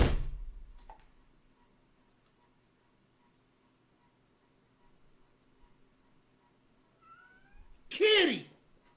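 A cat gives a loud, drawn-out meow close by near the end, with a sharp noise at the start, a small chirp around the first second and faint room hum between.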